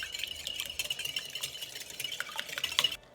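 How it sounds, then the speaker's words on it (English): Eggs are whisked in a bowl for pumpkin pie filling, a quick, steady rhythmic clatter of whisk against the bowl, close and continuous, with no talking, stopping abruptly at the end. "So let's start with our eggs so we can whisk these in."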